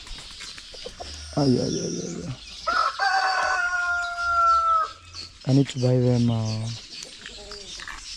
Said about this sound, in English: I hear my birds saying koko koko.